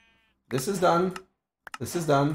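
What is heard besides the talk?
sheep bleating in a video game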